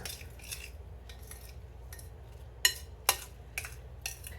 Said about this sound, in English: I'm going to go ahead and just bust up the egg.